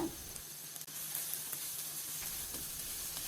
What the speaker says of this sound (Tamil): உப்பு சேர்த்து மறுபடியும் கலந்து விட்டுருங்க